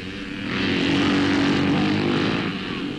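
A pack of 350cc motocross motorcycles at a race start in early-1960s Latvia roars in a dense, steady drone that swells and fades, sounding like a distant field of engines on an old recording.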